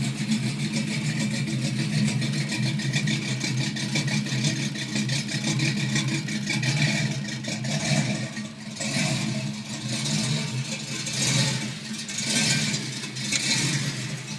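A 1965 Ford Mustang with a 302 V8 rumbles steadily and then pulls away, a continuous mid-pitched engine drone with some clatter and swells of revving, close and fairly loud, with no voices.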